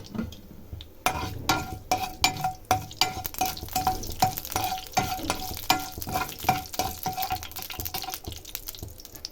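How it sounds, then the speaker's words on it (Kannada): Ingredients for beetroot palya frying in a pan, with a steady sizzle broken by repeated sharp clicks and scrapes of stirring, close and fairly loud, and no talking. "ಇದನ್ನೆಲ್ಲ ಫ್ರೈ ಮಾಡ್ಕೊಳ್ಳೋಣ ನೋಡಿ ಇವಾಗ ಫ್ರೈ ಆಗ್ತಿದೆ ಅದು"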